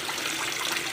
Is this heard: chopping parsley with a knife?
no